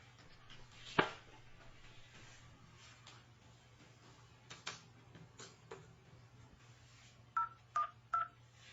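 A telephone number being dialed indoors, with quiet taps and clicks, then three short DTMF tone beeps in quick succession near the end, all faint over a low hum.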